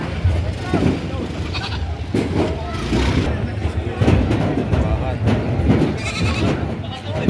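Goats bleat intermittently at a busy livestock sale where cattle, goats and water buffalo are traded, the calls partly buried under steady conversation and a running vehicle engine.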